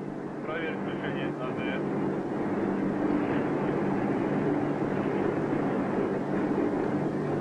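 A steady, droning Tupolev 114 airliner engine roar fills the cabin throughout, on a Moscow to Tokyo flight in 1969, with someone narrating over the hum.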